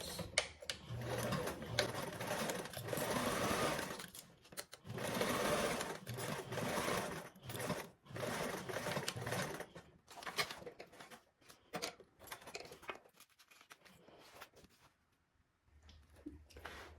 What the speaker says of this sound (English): you're going to sew this with a 3/8 seam allowance.